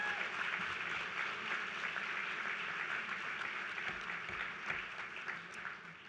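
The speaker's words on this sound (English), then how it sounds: "give another round of applause for Ms." Crowd gives a sustained round of dense applause at a civic event in New York City, steady and full before tapering slightly near the end.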